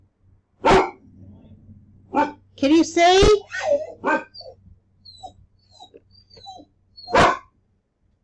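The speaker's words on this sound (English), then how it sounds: "What is he barking at?" Dog barking outdoors in a few sharp, separate bursts with whimpering sounds between them, while someone talks nearby.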